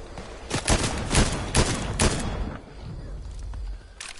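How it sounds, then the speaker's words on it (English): Gunfire from an enemy player in Fortnite: several sharp bursts of shots crack in quick succession, then quieter rattling continues with a faint burst near the end. "he's shooting through the fucking trees"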